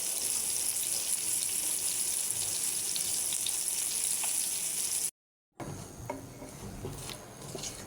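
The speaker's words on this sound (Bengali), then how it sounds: "ঘুরিয়ে ফিরিয়ে দুই পাশ ভেজে নিতে হবে ভালো করে" Pieces of farm-raised rohu fish sizzle and fry in a pan as they are turned to brown both sides. A steady crackle continues, drops out briefly, then resumes with scattered pops, and no one talks.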